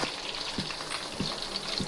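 Onions and curry leaves fry in a pan with a steady close sizzle, broken by a few soft stirring knocks; the fish curry is being cooked Nellore style.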